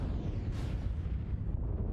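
Weapons firing from a Storm Crow mech in MechWarrior, a deep rumbling blast with a sharp burst near the middle fading into low roaring, loud and close, with no talking.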